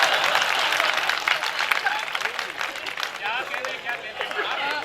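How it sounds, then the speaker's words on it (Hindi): Audience applause at a Hindi poetry gathering, a dense wash of clapping from a crowd that continues steadily throughout, with some voice babble mixed in. "अब ताली बजा रहे कि हाथ यही रखूं।"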